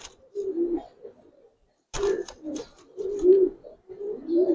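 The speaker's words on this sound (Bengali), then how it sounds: "চল এই কবুতরগুলো নিতে পারেন।" Giribaz and coloured pigeons cooing in a loft, soft low rolling coos repeated in several overlapping bursts close by, with a short quiet gap and a sharp flutter or knock before the cooing resumes.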